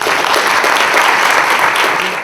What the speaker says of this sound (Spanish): Recibimos con un fuerte aplauso al querido Washington Blanco.